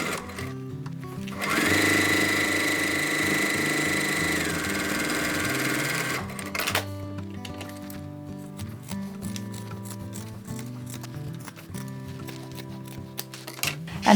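A sewing machine sews decor panels for a bag, first a sustained loud run of stitching, then shorter stop-start bursts with small handling clicks and taps.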